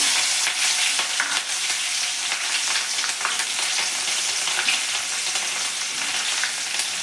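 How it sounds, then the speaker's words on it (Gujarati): Finely chopped green chillies fry in hot oil with asafoetida at the start of a Gujarati cabbage curry, giving a close, continuous bright sizzle with no talk. "હવે આપણે ઝીણા સમારેલા મરચાં નાખી દઈશું"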